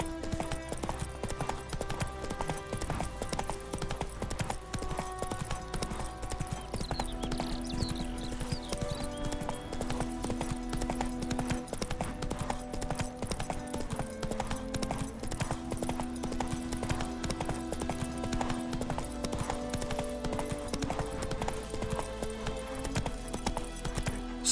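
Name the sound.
horse Roach hooves trotting, from video game The Witcher III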